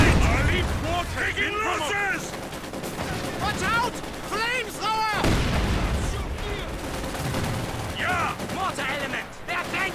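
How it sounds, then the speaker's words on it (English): Heavy mortar bombardment in the real-time strategy game Company of Heroes 2, with repeated thudding impacts and bursts of battlefield gunfire beneath continuous excited commentary, a sharp loud blast landing around the middle. "now he's got a heavy mortar bombarding him in return"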